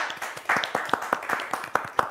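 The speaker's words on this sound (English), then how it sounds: "I think we all give Mr. Fujikawa a round of applause for everything that he's done for us" Light applause for bonsai artist Masayuki Fujikawa after a Ponderosa pine collaboration, a small group's sharp, distinct claps in a quick uneven rhythm, close by and with no talk over them.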